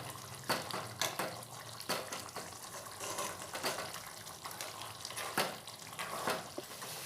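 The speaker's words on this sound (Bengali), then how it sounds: "দিয়ে নাড়াচাড়া করে মিশিয়ে নেব।" Kashmiri chili powder is stirred into a sizzling Bengali bati chochori of hilsa fish, with steady frying hiss and repeated scraping strokes of the stirring spoon.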